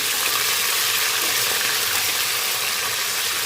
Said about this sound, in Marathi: दीड चमचा आलं लसूणची तेल घेतली आहे यामध्ये छान असे आपण परतवून घेऊया